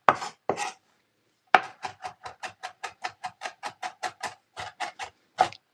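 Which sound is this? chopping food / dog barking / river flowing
chopping food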